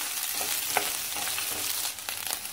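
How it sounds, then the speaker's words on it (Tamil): Sliced okra and raw mango fry in a pan for sambar, giving a dense, continuous sizzle with a few light stirring clicks near the close; no voices. "இது நல்லா அந்த விழுவிழுப்பு தன்மை போகிற வரைக்கும் நம்ம அதை வதக்கிக்கலாம்"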